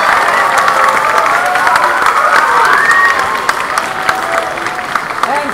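Parents in a school hall applaud and cheer for grade 3 and 4 students after a concert, a dense, loud, steady roar of clapping and shouting with children's voices mixed in that holds for several seconds.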